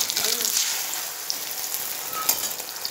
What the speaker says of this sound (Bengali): ডিমটা ভাজছে কাকিমা।